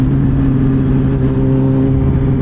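A hot car engine at a Japanese car meet, droning with a steady, loud, close hum and a deep rumble underneath, holding at a constant pitch with no clear rise in revs.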